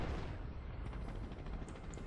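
Artillery in the World War II strategy game Company of Heroes fires a direct shot on the Rails and Metal map, heard as a dull, rumbling blast that stays heavy and sustained under the battle noise.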